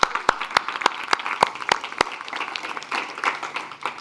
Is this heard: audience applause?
yes